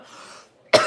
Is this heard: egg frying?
no